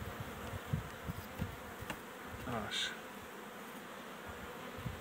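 Honeybees buzz steadily at an open hive during spring work before acacia bloom, a dense close humming swarm with someone speaking briefly over it.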